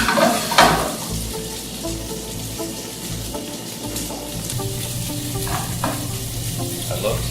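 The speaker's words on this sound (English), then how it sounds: "love to saute asparagus" Asparagus sautéing in a pan, a steady loud sizzle and frying hiss with occasional stirring scrapes, close up and continuous, no talking.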